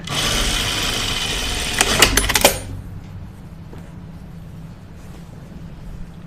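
A sewing machine runs steadily as it stitches the angled side seams of a dress, then halts abruptly with a few sharp clicks and clatters before the room falls quiet.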